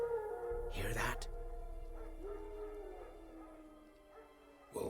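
Wild dogs in The Witcher 3: Wild Hunt give a sharp yelp followed by faint whining and howling cries at a distance, heard under low game ambience.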